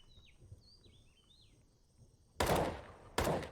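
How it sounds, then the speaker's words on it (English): Two loud, close gunshot bursts in Counter-Strike 2, each cutting in abruptly after a quiet stretch of faint bird chirps in the background. "Stop shooting so fucking loud."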